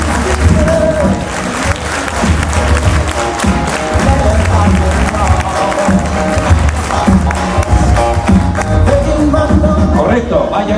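Audience applause at a charity gala for mercury poisoning victims, dense and steady clapping mixed with crowd noise and music, loud throughout.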